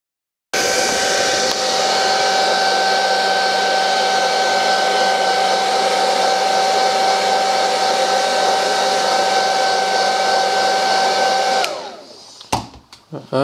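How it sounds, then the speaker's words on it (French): A hair dryer heats the glue on a 2016 Samsung A5 SM-A510F phone screen, blowing a loud, steady close whooshing hum for about eleven seconds before shutting off, followed by a few brief handling clicks. "je vais chauffer avec l'aide du sèche-cheveux de façon à ramollir un peu la colle"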